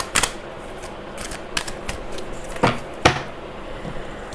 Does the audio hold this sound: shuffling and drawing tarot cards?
yes